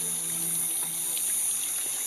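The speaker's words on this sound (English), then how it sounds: "I love the sound of water." Steady, continuous rush of running water with a hissy, bright texture, moderately loud and unbroken throughout.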